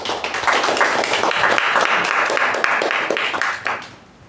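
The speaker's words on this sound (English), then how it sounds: "A big round of applause to her." A roomful of people at a Toastmasters club meeting claps steadily for a few seconds, a loud close patter that tapers off at the end.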